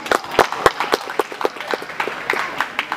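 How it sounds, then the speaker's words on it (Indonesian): Audience at a school collaborative festival with kindergarten-to-junior-high schools breaks into applause, sharp claps scattered and uneven, some standing out loud and close over a broad patter. "Tepuk tangan dulu untuk semuanya."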